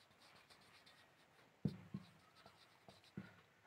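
A handwritten signature scrawled with a pen on paper, soft scratchy strokes punctuated by a few sharper taps, close and quiet, with no talking.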